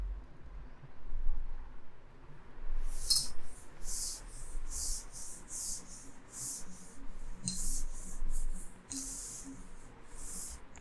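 Brisk rubbing strokes of a board being erased in a classroom, a series of close, hissing swipes in irregular bursts over a low room background.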